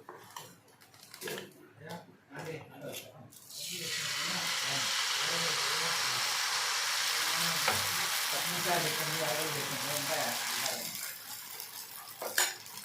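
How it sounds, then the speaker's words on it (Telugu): Dosa batter poured into a hot pan bursts into a steady, close sizzle that holds for several seconds and then fades, with a few utensil clinks before and after and a voice speaking now and then. "ఇప్పుడు అదే కళాయిలో దోశ వేస్తున్నా."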